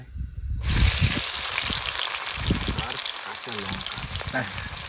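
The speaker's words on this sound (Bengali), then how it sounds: "দারুণ জিরের ফোড়ন, তারপরে পেঁয়াজ আর কাঁচা লঙ্কা এগুলো ভেজে নেওয়ার পরে দেবো আদা রসুনের পেস্ট।" Cumin seeds, chopped onion and green chili fry in a pan at a night riverside picnic in the Sundarbans. After a brief quiet moment, a loud, steady sizzle bursts in and holds, with occasional clatter of stirring.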